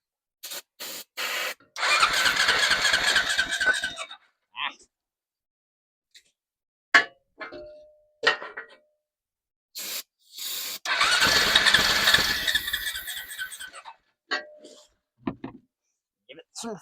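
A Honda-powered golf cart, sitting unused for ten years, cranks and sputters in two long bursts of rough engine noise separated by clunks and short pauses, with a person speaking between attempts.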